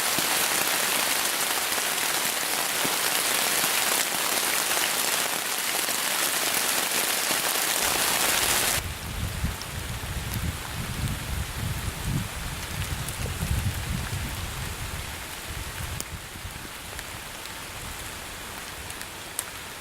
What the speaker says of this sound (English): now that rain's really starting to come down, so hiding underneath this tree and this tarp sure keeping me dry